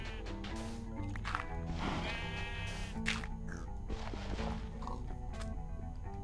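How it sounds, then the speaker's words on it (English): Cows lowing in a video game, several drawn-out calls with wavering pitch rising and falling over a few seconds, fairly close and distinct against a faint background. "Goddamn cows."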